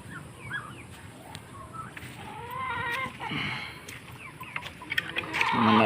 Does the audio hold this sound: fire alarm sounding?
no